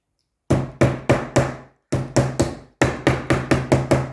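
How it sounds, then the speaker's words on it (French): Sharp, close knocks of a small mallet fixing corners onto a clipboard come in three quick rhythmic runs of roughly four to six blows each, separated by brief pauses, with no talking. "faut prendre un marteau, un petit maillet"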